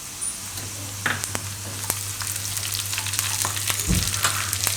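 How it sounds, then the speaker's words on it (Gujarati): Onion, ginger, chili and garlic fry in hot oil, a close, steady sizzle with occasional crackles and the scrape of stirring through the pan. "તો ડુંગળી આપણે આ રીતની એકદમ બ્રાઉન થઈ જાય એવી શેકવાની તેલમાં."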